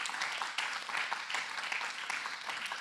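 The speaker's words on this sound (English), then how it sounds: "Please join me in a round of applause for our three panelists." Conference audience applauding a panel of three speakers at the close of a session, a soft, steady patter of clapping heard from a distance.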